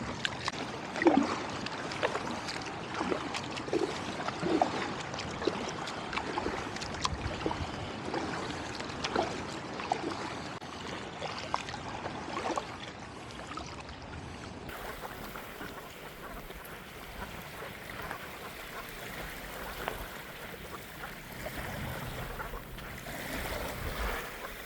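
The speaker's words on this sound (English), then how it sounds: "Wind is picking up and I have a few rollers coming at me." Wind and rolling waves wash steadily against a kayak on Coney Island Creek in Brooklyn, a continuous broadband rush with splashy surges, loud at first and calmer and steadier in the second half, with no talk.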